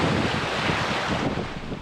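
Strong 30-knot wind roars over a sailboat at sea in a 4-meter swell, a loud, continuous rush of wind buffeting and water noise filling the whole moment without pause.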